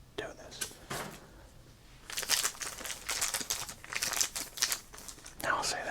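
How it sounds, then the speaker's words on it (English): Foil wrappers on 1990 Flair and Pro Set football trading card packs crinkle and tear up close, in repeated crisp rustling bursts, with soft whispering underneath. "Let's open up our packs."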